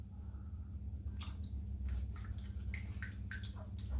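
Dense, creamy shaving lather scooped with a finger from a bowl, giving soft wet squelches and smacking squishes at close range over a steady low hum.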